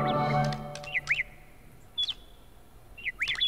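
Short chirps from a bird in Rayman Raving Rabbids come in three quick bursts, separated by quiet gaps, after a brief low game tone at the start.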